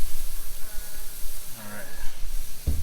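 Big slabs of carne asada sizzling on a grill at a birthday cookout, a steady close hiss that continues throughout with a sharp clatter near the end.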